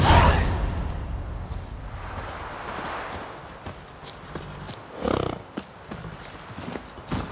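Roach, a horse in The Witcher 3 video game, runs with a steady clip-clop of hooves and an occasional snort or whinny under a windy whoosh, holding a fairly even level for several seconds.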